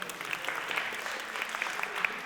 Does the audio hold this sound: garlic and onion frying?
no